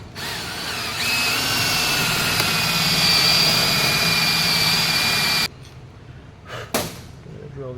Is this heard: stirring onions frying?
no